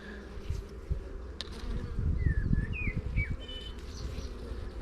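Honeybees buzz in a steady low drone around a hive where the queen lies dead, the hum swelling in the middle, with a few faint bird chirps above.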